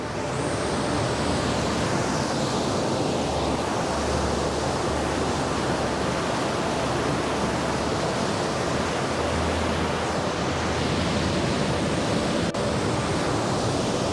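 A rushing Himalayan river near a bridge on the Valley of Flowers trek, a steady, loud broadband roar of water that runs unbroken throughout with no voices.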